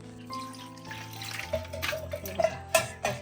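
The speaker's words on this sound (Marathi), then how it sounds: "आता मी स्वच्छ पाण्याने अशी धुवून घेते" Water splashes and trickles in short bursts as something is rinsed under running water, close up, with a tonal hum fading out early on.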